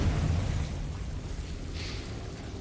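The Confringo blasting spell goes off in Hogwarts Legacy: a dense, rumbling burst of explosive noise that slowly decays, with a brief brighter crackle flaring later on.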